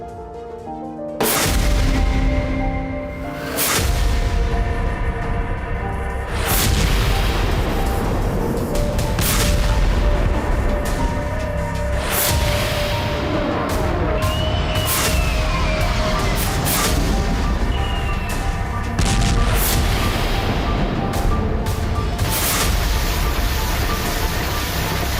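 Missile explosions in Crimea, a long series of loud, heavy booms repeating every few seconds over a constant roaring rumble, with no talking.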